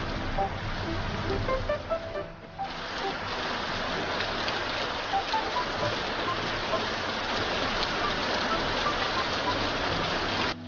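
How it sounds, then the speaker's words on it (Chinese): Heavy rain pours steadily on a mountain-top hut, a dense continuous patter of drops on the roof and surroundings that holds loud and close throughout, with a brief dip near the start. "果然，只是一盏茶的功夫，这雨就劈头盖脸打了下来"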